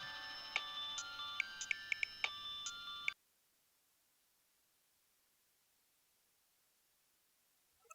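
Telephone ringtone chimes in a repeating electronic pattern for about three seconds, then cuts off abruptly into near silence, with no speech.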